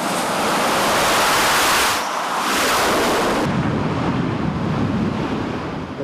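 Ocean waves and strong wind at sea aboard the aircraft carrier USS George H.W. Bush, a loud, steady roar of surf and buffeting wind noise throughout with no voices.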